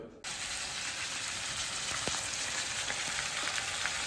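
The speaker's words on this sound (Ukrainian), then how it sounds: "Поки м'ясо там у нас шкварчить" Beef sizzles steadily in a hot frying pan, a constant crackling hiss with small pops and occasional scraping, close by.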